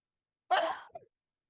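One sudden, sharp sneeze close by, followed by a faint breathy trailing sound, then silence.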